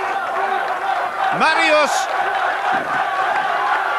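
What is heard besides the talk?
crowd roaring on a strongman competitor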